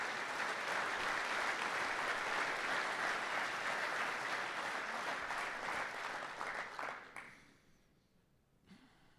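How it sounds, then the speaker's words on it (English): A crowd at a recognition ceremony applauds in a sustained, dense wash of clapping that fades out over the last couple of seconds, with a faint stray clap after. "So another round of applause,"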